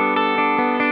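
Electric guitar played through a Tech 21 RK5 Fly Rig clean amp with built-in reverb rings out as a sustained, dense chord, a few soft pulses rippling through it, with no voice.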